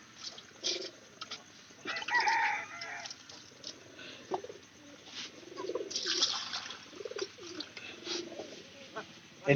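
Pigeons in a loft coo in soft, uneven bursts close by, mixed with other bird calls and occasional fowl sounds in a quiet setting.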